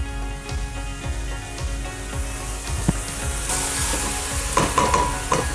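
A yellow split pea soup base fries with spices in a pot, giving a steady sizzle with repeated scraping stirs and a few louder crackles toward the end.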